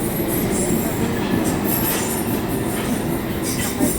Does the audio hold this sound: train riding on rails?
yes